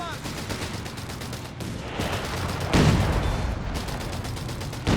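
Stuka dive bomber attack in a Company of Heroes 3 desert battle, heavy rattling gunfire and mechanical clatter rolling continuously, with a louder burst of impacts midway and a brief dip in the din.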